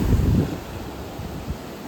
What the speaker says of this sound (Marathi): इकडे जबरदस्त पाण्याचा फोर्स आणि पाणी पण जोरात येतात